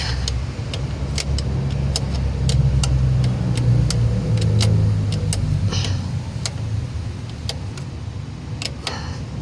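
A motorcycle engine that had been submerged in floodwater starts and idles, its low rumble swelling briefly then settling, with sharp mechanical ticks repeating throughout.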